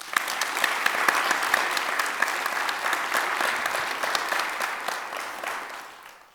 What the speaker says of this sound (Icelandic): Og það má nú klappa fyrir þeim.